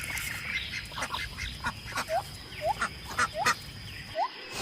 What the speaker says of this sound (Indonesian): ini bebek teman-teman